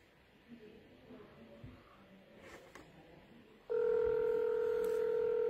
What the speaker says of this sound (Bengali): আমি একটু ফোনে কানেক্ট হবার চেষ্টা করি।